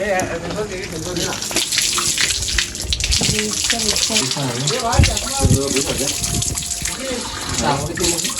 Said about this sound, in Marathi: त्यातून वर्षाचे 12 महिने पाणी चालूच असतं